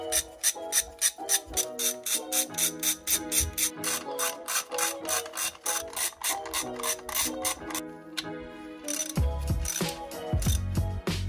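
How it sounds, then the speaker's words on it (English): A ratchet tightens the bolts on PUIG engine case covers fitted to a BMW S1000R motorcycle: a close, rapid string of clicking pawl ticks in repeated bursts, ending with a few heavier clunks. "Make sure the bolts are nice and snug."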